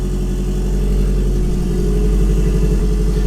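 A performance engine idling after fuel was reduced, a loud, steady, close-up rumble with even pulsing and some mechanical clatter, no voices.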